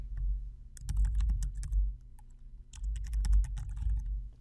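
Typing on a computer keyboard, with two bursts of rapid, close key clicks separated by a short pause, clear and alone with no talking.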